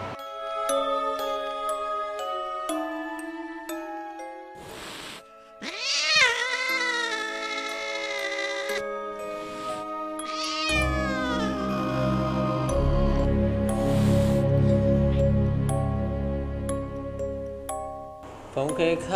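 A cat meows and caterwauls in drawn-out, wavering wails, heard close and fairly loud, alongside other tonal sounds and a rising rumble in the second half.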